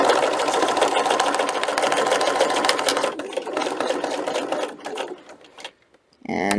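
A sewing machine stitches fabric for a custom book protector, a rapid steady mechanical whirring and clatter that runs continuously, slows in stages, pauses briefly, then restarts at the end.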